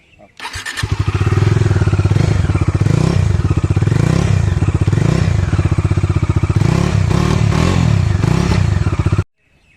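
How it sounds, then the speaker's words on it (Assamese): A Bajaj Dominar 400 BS6 motorcycle cranks and fires up, then settles into a loud, close, throbbing single-cylinder idle with slight rev swells before cutting off abruptly near the end. "আপোনালোকক বাইকটো ষ্টাৰ্ট কৰি দেখাওঁ আগতে।"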